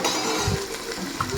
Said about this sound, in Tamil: எப்பவும் போல் வெங்காயம், கருவேப்பிலை, மிளகாய் போட்டு தாளிச்சிட்டு